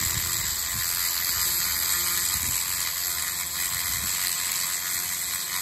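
Flexshaft rotary tool driving a diamond burr into stone, a constant high-pitched whine with a gritty grinding hiss beneath it, steady and close throughout.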